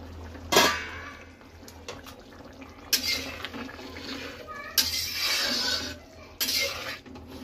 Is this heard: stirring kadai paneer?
yes